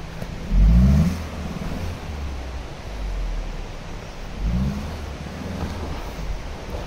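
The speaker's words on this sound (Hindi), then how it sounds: "गाड़ी रोने लगी भाई, ग्रैंड विटारा फंसा मत देना।" A Maruti Suzuki Grand Vitara stuck in slick mud in Sikkim revs its engine in two low surging bursts, with a steady whine between them and wind-like noise throughout.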